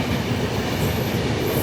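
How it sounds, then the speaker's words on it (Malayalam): The Jammu Tawi Sabarmati Express arrives at a station, a loud, close, continuous rumble of rolling wheels and railcar clatter with a faint high squeal on top. "ജമ്മു തവി സാബർമതി എക്സ്പ്രസ് ആണ് വരുന്നത്."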